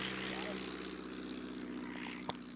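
A propeller plane droning overhead at an air show in Temora, the steady engine hum holding throughout while people talk nearby.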